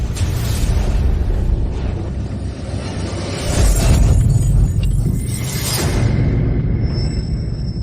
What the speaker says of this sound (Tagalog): Pumutok ang larawan.